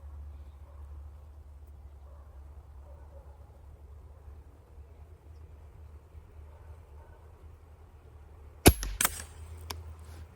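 A single sharp crack from a Custom Varmint rifle breaks a long stretch of low outdoor rumble, followed by a short echo and a few faint clatters.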